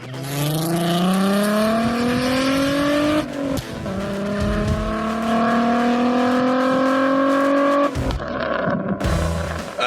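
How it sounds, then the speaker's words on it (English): A Volkswagen VR6 engine revs hard and loud, its pitch climbing through long pulls with brief drops between, and crackling exhaust pops break in after the revs near the end. "that VR6 and that Volkswagen just sounds insane. Oh my God, the pops on that."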